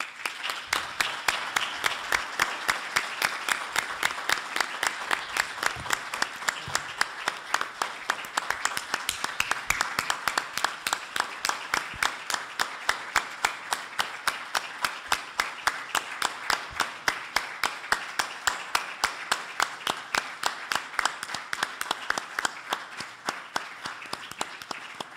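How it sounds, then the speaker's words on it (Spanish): Members of a legislative assembly give a long, steady round of applause, a crisp and fairly even rhythmic clapping that continues without pause for about twenty-five seconds, with no talking over it. "dedicarles un minuto de aplausos a todas esas personas"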